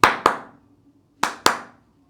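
Two quick pairs of sharp hand claps, the second pair coming about a second after the first, each clap crisp and close with a short ringing tail in a quiet room.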